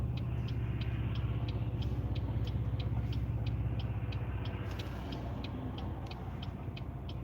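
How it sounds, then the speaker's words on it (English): Cars roll past a busy intersection where a driver waits to turn right on red, a continuous low engine rumble with a steady rapid ticking, like a turn signal, layered on top and no talking. "There's a lot of cars coming."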